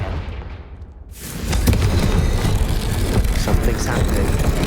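A Confringo blasting spell explodes in Hogwarts Legacy, a sudden loud, close boom that swells into a sustained, rumbling roar of crackling debris and noise.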